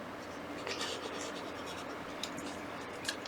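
Quilting fabric for a block-of-the-month quilt being trimmed with a rotary cutter along a ruler, producing a steady close scraping and rubbing sound with a few sharper scratches.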